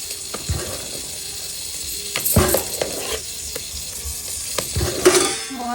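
Idli batter of urad dal and idli rava is stirred in a bowl with a ladle, giving scattered metallic clinks and scrapes against a soft, continuous swishing.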